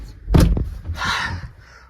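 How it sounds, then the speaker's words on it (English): A 2004 Ram 1500 pickup's door is shut from inside the cab, one heavy close thump with a brief rattle, followed by a softer rustling, airy settling noise. "Let's get into the interior and shut the door."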